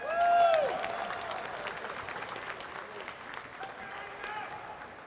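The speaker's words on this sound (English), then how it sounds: "Hiko, give everybody a round of applause for Hiko." Audience applause at the H1Z1 Invitational 2017 esports trophy ceremony as a player comes to the stage: a steady wash of clapping from a crowd, loudest at the start and then sustained, with an announcer's voice over it.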